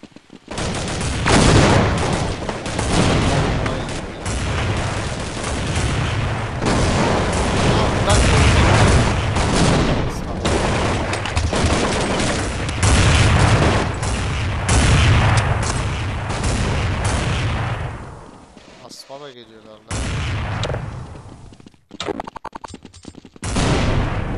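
Dense, loud bursts of automatic gunfire from the video game Counter-Strike 1.6 on the de_aztec map, with rapid repeated shots and booms across most of the stretch, briefly dropping off near the end, and a voice talking over it.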